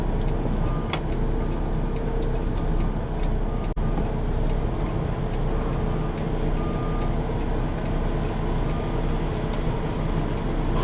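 A tractor-trailer truck backs up, its engine giving a steady, close, continuous rumble with a few faint higher tones throughout and one brief sharp click partway through.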